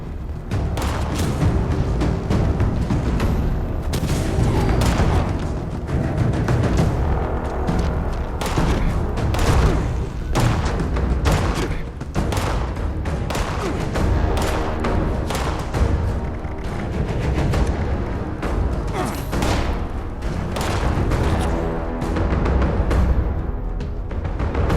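Rapid, dense gunfire and booming blasts in Fallout 76, loud and sustained throughout with bursts overlapping, no clear pauses between shots.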